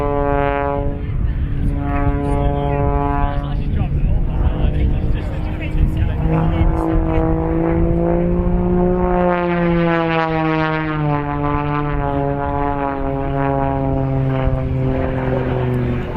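A propeller aircraft flies aerobatics at the RAF Cosford Airshow, its engine drone rising and falling in pitch as it rolls vertically and turns into a spin. The roar stays loud and close, with a commentator talking over it.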